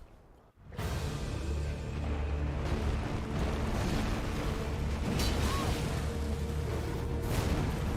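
Explosion in the video game Elden Ring, a sudden loud blast that gives way to a dense, continuous roaring rumble lasting several seconds.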